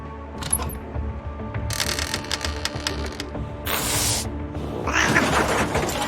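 A video game cat yowls amid loud mechanical clanking and grinding, with no talking.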